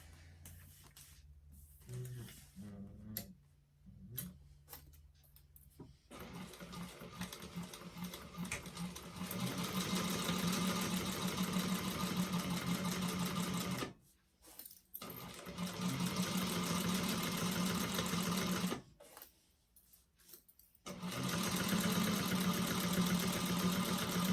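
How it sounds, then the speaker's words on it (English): A sewing machine stitches a 1/4-inch seam across the front and back main panels of a Madeleine bag, running in long steady whirring bursts with two short pauses, loud and close, with no talking. "then you're going to sew across with a 1/4 of an inch seam allowance"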